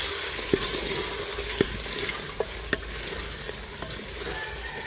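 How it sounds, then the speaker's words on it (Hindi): Garlic, ginger and green chili paste sizzles steadily in a pan as it browns, with a handful of sharp stirring clicks and scrapes at irregular intervals over the soft, continuous frying hiss. "लहसुन अदरक का पेस्ट और हरी मिर्च का पेस्ट। अब हम इसको कर लेंगे ब्राउन थोड़ी देर के लिए।"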